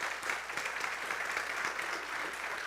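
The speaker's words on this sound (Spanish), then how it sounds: "denle palmas al Señor" A church congregation claps for the Lord during a Spanish-language sermon, a steady dense wash of applause throughout, fairly faint and without spoken words.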